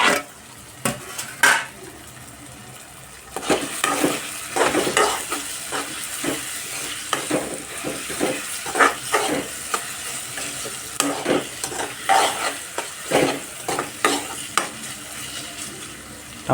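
Tomatoes fry in a pan for a potato curry, a low sizzle beneath repeated scraping and clinking as a metal spoon stirs against the pan in irregular strokes.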